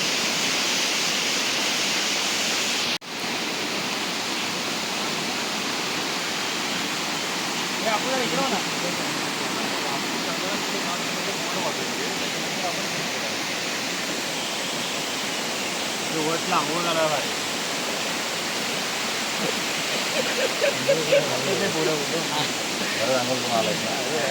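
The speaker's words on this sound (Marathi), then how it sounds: "खालच्या साईडला एक वाहणारा झरा" Steady broadband rush of a flowing stream running just below a temple in the Konkan region, loud and continuous throughout, with faint voices surfacing now and then beneath the water.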